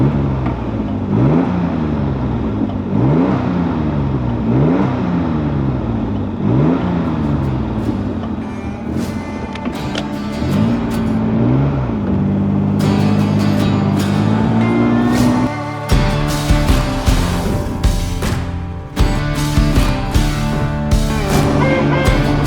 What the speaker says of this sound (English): beautiful sound coming out that dual exhaust